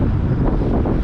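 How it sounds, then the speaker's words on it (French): Strong wind buffets the microphone outdoors while riding an electric scooter, a loud constant low rumbling roar alone without speech. "comme il y a beaucoup de vent, voilà, ça freine quand même la trotte"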